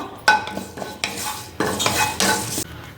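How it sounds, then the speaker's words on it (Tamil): Curry leaves tossed in a hot kadai with the stove off, giving several loud bursts of scraping and stirring against the metal pan with a faint crackle, close and without talk. "அடுத்தது நம்ம கடாயில் கருவேப்பிலை எடுத்து வச்சுருந்தோம் அதை வந்து உள்ளே சேர்த்துடலாம்"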